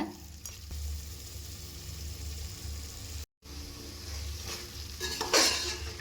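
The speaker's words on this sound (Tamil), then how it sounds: "இது நல்லா கலந்து விட்டுறலாம்" Chicken biryani with fresh mint and coriander leaves being stirred in a pot, giving a steady scraping and rustling under a soft background sizzle, with a short gap in the middle and a louder scrape near the end.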